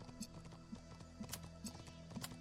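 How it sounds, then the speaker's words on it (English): Horse hooves clip-clop in the video game The Talos Principle II, a faint, even rhythm of hollow clopping steps repeating about every half second. "Sounds like a horse."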